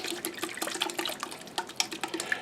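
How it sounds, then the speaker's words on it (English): A spoon stirs sugar and yeast into water for round bread baked on a pizza stone, making quiet irregular swishes and light clinks against the cup, close by with no talking. "I'll give that a little bit of a stir."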